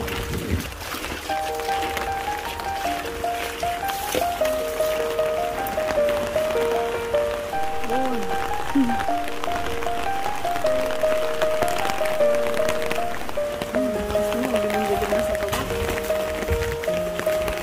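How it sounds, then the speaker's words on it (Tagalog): Steady heavy rain pattering on surfaces, a dense continuous hiss with a sustained tonal hum running through it. "Grabe yung ulan."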